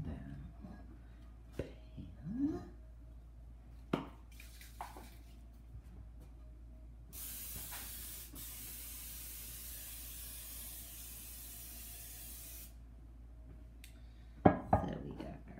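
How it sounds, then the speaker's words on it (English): A steady hiss of cooking spray lasts several seconds, preceded by light clinks and knocks of a pan being handled. "We need to spray the pan down."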